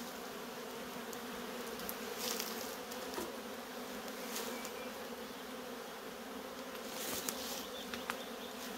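Honey bees swarm and buzz around an opened beehive, a steady close drone of many wings with occasional louder passes near the ear.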